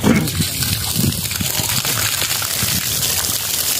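Cold water from a motor pump gushing and sloshing close by, a continuous loud splashing flow with some irregular surges, no talking heard.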